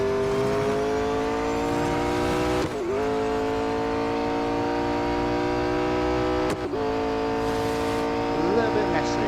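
A race car in Real Racing 3 holds a steady, loud, whining engine note that drops sharply twice as it brakes and shifts, then climbs again as it accelerates out of the corners.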